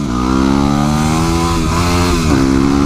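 A Yamaha WR250R dual-sport motorcycle engine revs steadily and loudly up close, its pitch dipping and climbing a couple of times across a continuous throttle run, with no talk.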